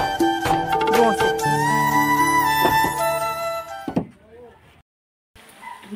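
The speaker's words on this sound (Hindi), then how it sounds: "बंद करो, बंद करो दरवाजा, धक्का दे दे धक्का" A door is pushed shut with a single firm thud that cuts off loud voices and background noise, leaving near silence.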